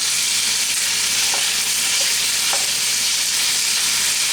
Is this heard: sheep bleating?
no